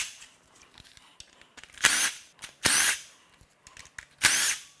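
A power tool unbolts the secondary chain tensioner on a BMW M54 engine, firing three loud short bursts of whirring rattle separated by quieter clicks and handling noise, close up.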